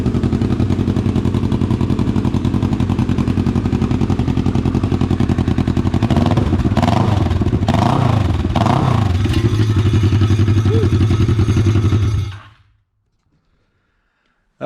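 A cheap cafe-streetfighter motorcycle built from a $25 bike runs loud and close through a new, loosely fitted exhaust, chugging steadily before a few quick throttle blips around the middle, then settling and shutting off into silence.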